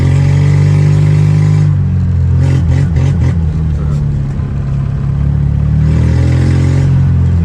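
A Microcar M.Go Highland X stage 2 microcar pulling away from a standstill: loud, close, steady engine drone with a strained rising whine, a short dip and rattling mid-clip, then the drone returns.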